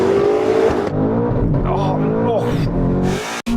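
A race car engine in a racing video game held on boost, a loud continuous revving drone rising and falling in pitch, with a brief cut-out near the end.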